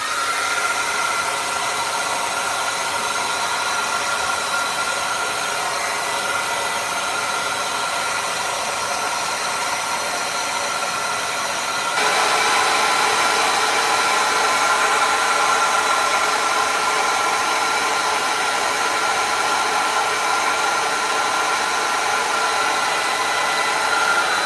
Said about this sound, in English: Now we'll get the hair dryer and dry this whole layer off.